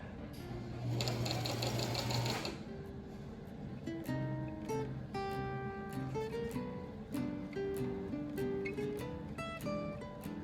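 A sewing machine set to a 2.5 stitch length runs steadily while stitching a continuous placket on fabric, a close, even mechanical whir with a faster burst early on, and no voices over it.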